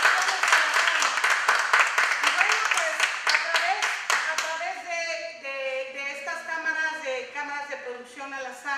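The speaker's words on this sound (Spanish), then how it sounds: "Bien, el aplauso para" Applause for Raúl de la Torre of Producciones Alazán follows a theatrical performance: a few seconds of crowd clapping at first, fading as tonal music or voices take over in the second half.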